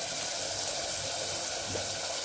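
Water pours steadily into a pan of frying masala for mushroom curry, a continuous close hissing gush with no talk over it.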